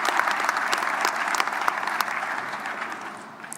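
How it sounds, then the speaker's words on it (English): Political party members at a local government election results event applaud in a full, sustained round with sharp individual claps standing out, gradually tapering near the end. "Please applaud yourselves."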